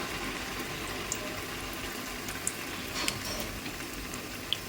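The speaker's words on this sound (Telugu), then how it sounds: "చూసారు ఇక్కడ మనకి ఎట్లా ఫ్రై అవుతుందో చక్కగా" Urad dal garelu batter deep frying in hot oil: a steady, even bubbling sizzle throughout, with a few faint ticks and pops.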